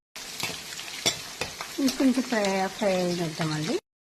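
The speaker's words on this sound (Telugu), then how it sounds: "ఇంకొంచెం ఫ్రై అయిద్దామండి." Close sizzling of mutton frying in a pan with green chillies and curry leaves, scraping stirs, while a person talks over it.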